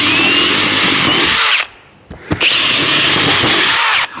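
A loud power drill whines steadily while boring relief holes in wood, stops briefly with a couple of knocks, then revs up again through the wood.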